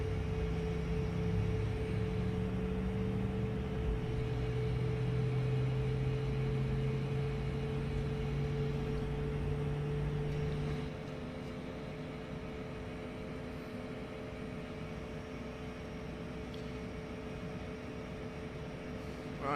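An Airbus A220 engine start in Microsoft Flight Simulator 2024: a steady spool-up hum with rising tones over a broad rush, dropping to a quieter, even whine partway through, with no talking.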